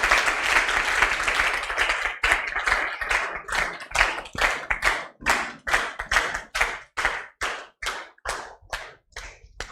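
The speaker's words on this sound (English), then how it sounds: "I would request to please continue clapping." An audience claps steadily, a dense wash of hands at first that thins into slower, distinct, rhythmic claps toward the end, close and fairly loud with no talking.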